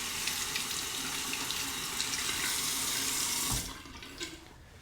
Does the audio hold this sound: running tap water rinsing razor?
yes